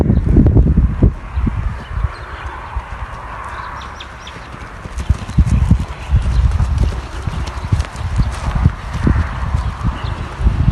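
Hooves of a young racehorse, a stallion offered for sale, clip-clop in a steady series of sharp knocks that run through the whole stretch, fairly close and loud over a rustling outdoor background, with no talk.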